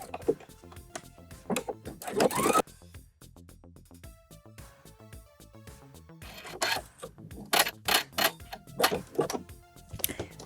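Sewing machine stitching an elastic waistband on DIY shorts, a quiet rapid mechanical ticking run broken by pauses and louder rubbing and fabric handling sounds.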